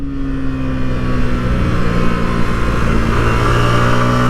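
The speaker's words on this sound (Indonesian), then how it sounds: "Kita engine brake." Yamaha YZF-R15 V3, a 155 cc sport motorcycle, engine braking while cornering on a test ride: a steady, loud, close engine drone with harmonic whine, rising slightly in pitch toward the end, with no talk.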